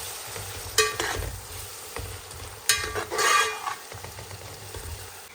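Fresh ginger garlic paste sizzles in a pan for mutton biryani while being stirred, a soft steady frying hiss broken by a few sharp scrapes of a spoon against the metal.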